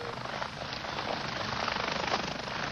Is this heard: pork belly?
no